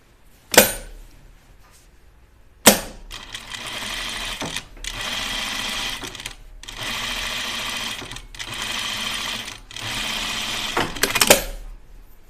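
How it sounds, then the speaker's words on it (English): Sewing machine understitching a dress pocket in several steady runs of rapid stitching, separated by short pauses and a couple of sharp clicks near the start and end. "I need to understitch that."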